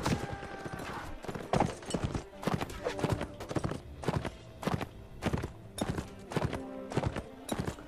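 Horse hooves clip-clopping in Mount and Blade: Warband multiplayer combat, a steady run of sharp, fairly close hoofbeats with thuds and clatter from a battle mixed in around them.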